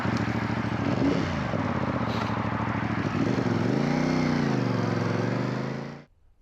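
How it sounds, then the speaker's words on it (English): A CF Moto CL-C 450cc cruiser motorcycle is ridden in winter, its twin-cylinder engine droning steadily and close up. The pitch rises and falls with throttle changes, then the engine cuts off abruptly near the end. "a quick ride and review of the CF Moto CL-C 450cc cruiser"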